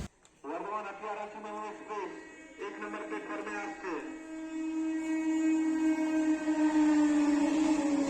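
Train at Galsi railway station on a morning, a sustained loud tonal horn-like sound that swells and holds for several seconds, rising in level toward the end, with station noise around it.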